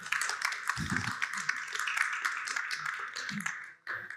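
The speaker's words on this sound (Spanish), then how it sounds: "Les pido un aplauso, por favor, para él." A crowd applauds steadily, a dense wash of many hands clapping at once that fades briefly near the end.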